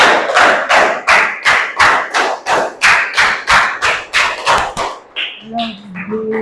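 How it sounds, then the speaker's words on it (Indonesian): A class of children claps together in a quick, steady rhythm, about fifteen close, sharp claps in a row, followed by a short stretch of speech. "Tepuk 5 3 kali"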